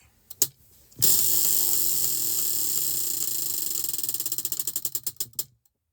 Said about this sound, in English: Let's spin for stitch number 3.